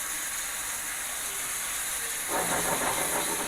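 Coconut milk hits a hot pan while a sauce for Dominican dumplings with salami cooks. A fresh, louder sizzle bursts in partway through over a constant steamy hiss, close by and with no voices.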